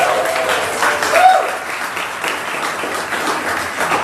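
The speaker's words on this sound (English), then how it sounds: "can I get a round of applause for Kelsey at the bar?" An audience applauds Kelsey, the bartender, at a live tabletop role-playing show, a broad crowd clapping with a brief swell early on and a faint voice or whistle mixed in.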